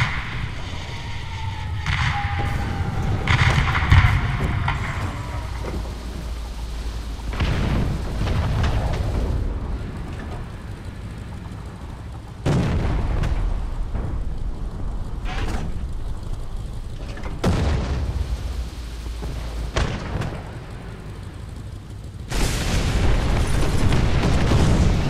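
Deep booming shots from an M4A1 76 tank gun in a video game, several heavy blasts spread across the stretch, each with a long rumbling tail over a low engine drone, with no talk.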